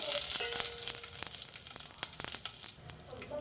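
Red and green chillies sizzle and fry in hot oil for bottle gourd sambar, a steady crackling hiss with sharp pops and spits scattered throughout, close and fairly loud.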